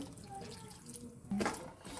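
Water poured into a wok holding broken jaggery to make syrup, a faint trickle then a brief louder splash near the end, quiet and close.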